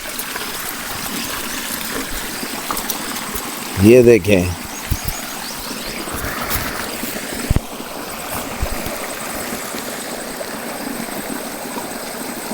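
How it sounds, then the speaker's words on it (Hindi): Water from a spring rushes and trickles steadily along a stream, a constant close wash with someone briefly speaking over it and a short mechanical buzz partway through. "पानी का शोर सुने।"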